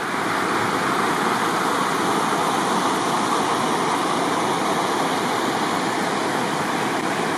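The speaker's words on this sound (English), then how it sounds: "It's the river. The tent is right on the bank with the river beside us." A river rushes steadily past a tent pitched right on its bank on a backpacking route to Landslide Lake, a loud, unbroken broadband roar with no pauses.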